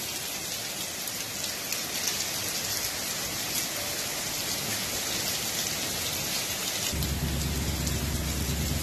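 Heavy rain pours down steadily along a trail by a parking lot, a dense, continuous hiss of drops on surfaces, loud and close throughout, with a deeper low rumble joining in near the end.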